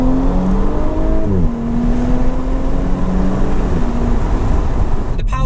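An Audi S5 accelerating hard in S mode, its engine note climbing through the gears with quick shifts, loud and steady from inside the car, ending in a brief clatter.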